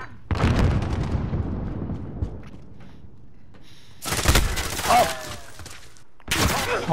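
A teammate's gunfire in Call of Duty: Modern Warfare rattles in loud, close bursts of rapid automatic shots separated by quieter pauses, with players talking around them.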